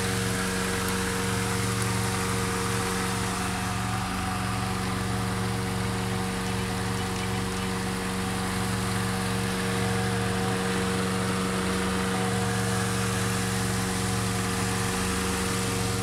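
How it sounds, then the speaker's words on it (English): The engine of a 1975 Lancia Beta Berlina sedan idles smoothly and steadily, a low, even hum that runs without revving. "The engine sounds great."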